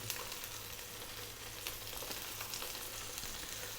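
Chicken and halloumi cheese frying in a pan over medium heat, a steady, dense sizzle that holds evenly throughout with no voices over it.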